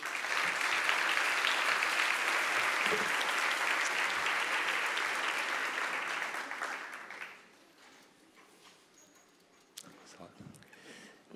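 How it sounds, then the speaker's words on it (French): An audience applauds a contestant at a Ma thèse en 180 secondes science-talk event, with loud, dense, sustained clapping for about seven seconds that then fades to scattered claps and faint room noise. "On peut l'applaudir, s'il vous plaît."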